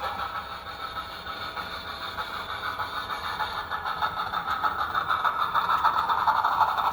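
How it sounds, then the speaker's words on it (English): Simulated wheel slip from a model Western Pacific 4-8-4 steam locomotive, a steady mechanical whir with a rapid chuffing texture that grows louder toward the end, with no voices. "That's wheel slip, simulated."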